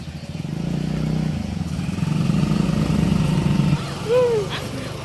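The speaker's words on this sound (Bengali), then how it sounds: "লোকজন দেখো সব বাইক ফাইক নিয়ে ঢুকছে" Motorbikes roll into a flower garden, engines rumbling nearby under a crowd's chatter, with a brief louder rev toward the end.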